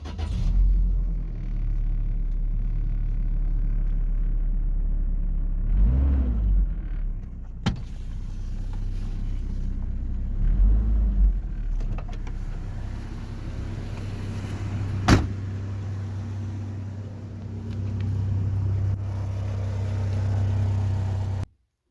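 A tow truck's engine idles with a steady, deep rumble after an exhaust repair, a low drone continuing for a long stretch with a couple of sharp clicks and small swells in level.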